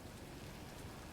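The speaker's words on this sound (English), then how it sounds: "Raining." Steady rain falling in the video game Death Stranding 2, a soft continuous hiss of drops, faint and even with no voices.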